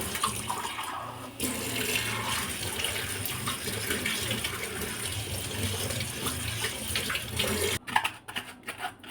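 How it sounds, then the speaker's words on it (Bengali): Fenugreek seeds are rinsed under running water from a tap. The flow is close, steady and fairly loud for most of the time, then cuts off near the end, leaving a few splashes and drips. "আমি মেথিটাকে নিলাম, নিয়ে এটাকে ভালো করে একটু ধুয়ে নেব"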